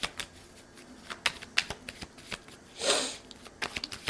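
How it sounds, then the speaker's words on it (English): Tarot cards are shuffled close up in a string of quick, papery riffles and soft slaps, with one longer rushing riffle in the middle. No one speaks. "we have to pull more cards"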